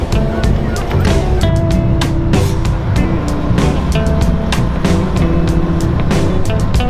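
Classic cars drive along a road during a large classic car event, a loud, continuous rush of engine and road noise close by, with repeated sharp swells as vehicles pass.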